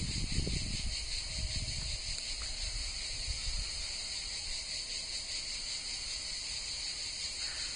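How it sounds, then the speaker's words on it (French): Steady, dense buzzing of cicadas fills the background throughout, a continuous high-pitched drone with a few soft rustles near the start. "Vous avez peut-être d'ailleurs le chant des cigales en fond sonore."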